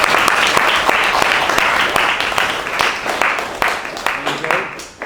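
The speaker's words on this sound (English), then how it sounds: "Impromptu applause, you know it's meant." Impromptu applause from a gathered audience at a Model UN meeting, a steady wash of clapping with distinct individual claps, gradually tapering off near the end.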